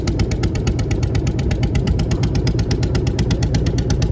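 A motor boat engine chugs loudly and close by as the boat runs between mangrove forest and the sea at Lalganj beach, its rapid, even pulsing steady from start to finish.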